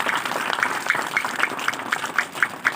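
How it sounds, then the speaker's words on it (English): An audience at a school prize distribution ceremony gives a round of applause. Fairly loud, even clapping continues throughout, with a steady pulse of individual claps standing out above it. "A big round of applause for sir also"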